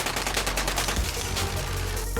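Two oxygen cannons mounted on a Kia Mojave dressed up as an Autobot fire a rapid burst of sharp, loud blasts that crackle like a fusillade, with the bangs densest early and a final thump near the end.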